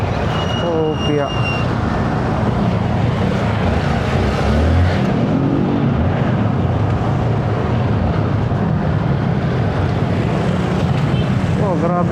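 Heavy road traffic in Mabulo, Valenzuela, a constant dense rumble of engines close by with passing vehicles and a faint horn-like tone near the start.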